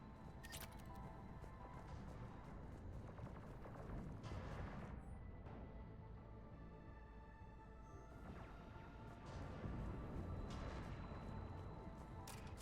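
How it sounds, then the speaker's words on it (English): Heavy cannon fire and explosions in Mass Effect 3's Omega DLC, a dense continuous barrage of booms and crashes at steady loudness throughout, with no talk. "Those cannons have to be stopped."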